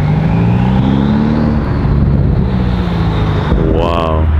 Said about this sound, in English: You guys hear the turbos?